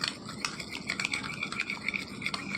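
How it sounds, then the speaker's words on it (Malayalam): Spoon stirring a homemade face pack mixture in a small bowl, with soft continuous scraping and light clinks throughout, close and fairly quiet, no talking. "എന്നിട്ട് നമ്മൾ നല്ല പോലെ ഇളക്കിയെടുക്കണം"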